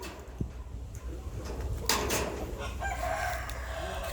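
A Burmese rooster lets out a long crow partway through, clear against steady outdoor noise, after a few soft clucks and thumps, in a pen holding five roosters.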